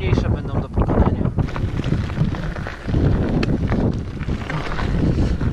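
Strong wind buffets the microphone in a continuous low roar while cycling uphill into a headwind on a ride through Kazakhstan, with gusty swells throughout.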